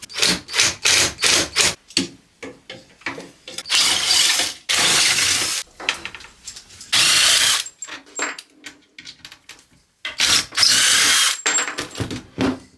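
Removing the legs from an old piece of wooden furniture: repeated short bursts of a power drill or driver whirring, interspersed with clicks, clunks and rattling of screws and hardware, close and fairly loud with no talking.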